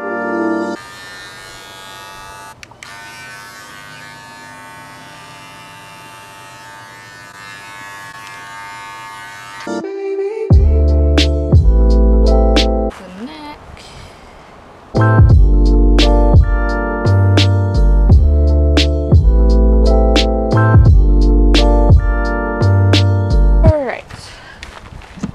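Electric clippers shaving the thick hair of a miniature horse, a steady buzzing hum starting and stopping in several bursts, close and fairly loud, with louder stretches in the second half.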